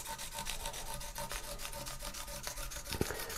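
Abrasive paper rubbed steadily back and forth over the fret ends of a bass guitar neck, a quiet, close, even rasping rhythm with one brief knock near the end.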